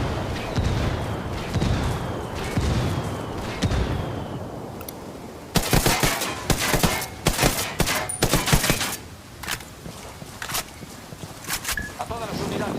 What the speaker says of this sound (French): J'ai demandé un tir d'artillerie aux rebelles.